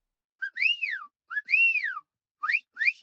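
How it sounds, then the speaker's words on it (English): Four clear human whistles, the first two long rising-and-falling swoops, then two short quick upward chirps, loud and close with silence between. "can you do the family whistle, please?"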